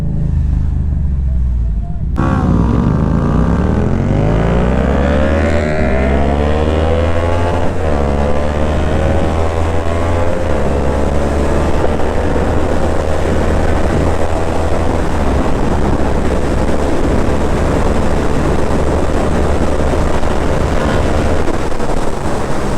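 A Yamaha MT-07 motorcycle ridden in winter starts up sharply, then its engine climbs in repeated rising revs, rumbling up close under heavy wind noise and settling into a steady cruising drone.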